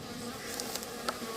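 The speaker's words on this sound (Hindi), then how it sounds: "जहां मधुमक्खियों का परिवार शहद बना रहा है" Honey bees buzz at a hive in a soft, steady drone, with a few individual bees buzzing briefly closer now and then.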